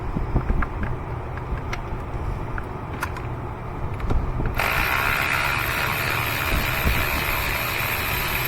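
Ratchet socket wrench clicking while removing spark plugs from a 2003 Lexus GX470, a series of close, sharp ratcheting clicks in short bursts, followed by a steady hissing broadband noise.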